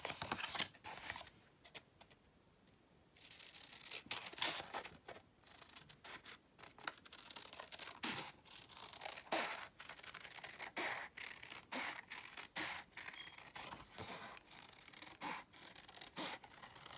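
Paper being cut with scissors at a crafting table, making journal tags, with a run of quiet, irregular snips and scratchy rubs close to the mic, a short pause early on, and no talking.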